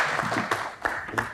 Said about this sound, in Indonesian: kita berikan tepuk tangan sekali lagi untuk Tasya